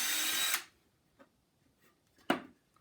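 A power drill bores a pilot hole in wood for decking screws while building a tabletop easel: one loud whirring burst at the start that cuts off, followed by faint clicks and a short clunk of handling.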